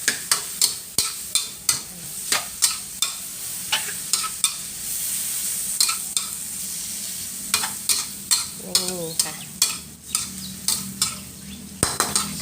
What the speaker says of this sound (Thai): ผัดใบกะเพราให้ยุบ